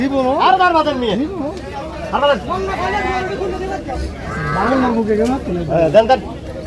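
Cattle at a Comilla market where small bulls are sold, heard as a loud drawn-out low bellowing over busy chatter and crowd babble with people talking close by.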